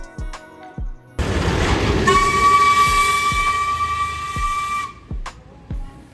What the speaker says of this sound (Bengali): এবার টয় ট্রেনে না চড়লেও দেখা হয়ে গেল রাস্তায়।